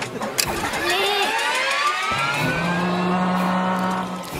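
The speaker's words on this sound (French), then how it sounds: "C'est un moteur à injection." A fuel-injected turbo sport car engine starts and revs hard, its pitch sweeping upward and holding at a loud, steady high whine, close by, with some voices faintly mixed in.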